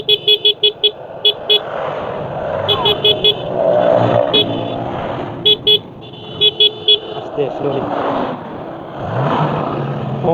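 Motorbikes climb a mountain road toward Sajek with a continuous engine drone and repeated short horn toots coming in bursts. A voice is faintly present at times.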